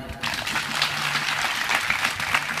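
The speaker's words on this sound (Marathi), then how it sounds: "टाळ्या वाजवून एकदा" Applause from a live audience at a Marathi comedy stage show, dense steady clapping that carries on evenly for a couple of seconds with no voices over it.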